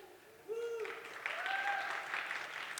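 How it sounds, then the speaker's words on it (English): Audience applause for a guest introduced at a conference talk on decentralized science, a moderate, steady patter of clapping that swells after the first half-second, with faint tonal sounds riding above it. "So one round of applause for Allison."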